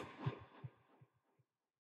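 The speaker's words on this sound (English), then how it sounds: "Wait, is that a fucking heartbeat?" An in-game heartbeat pulses in slow thuds, a handful of soft low beats spaced under a second apart that fade out over two seconds, heard alone without talk.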